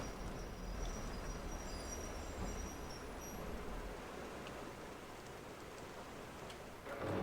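Train in the video game Metro Exodus, a quiet continuous rattling rumble of rail cars with high whining tones, fading slightly before a brief louder burst at the end.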